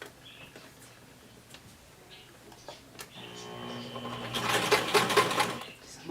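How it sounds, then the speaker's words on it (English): A home sewing machine stitches a zigzag stitch along elastic on a child's fabric surgery cap, starting with a few light clicks and building to a steady, close whirring run of stitches near the end, with a voice talking quietly earlier. "I'm going to do a zigzag stitch, because the zigzag stitch stretches along with the elastic"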